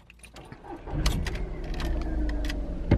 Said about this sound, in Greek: ακόμα και όταν είναι στο ρελαντί το αυτοκίνητο νομίζεις ότι σου έχει σβήσει, ότι δεν είναι σε λειτουργία ο κινητήρας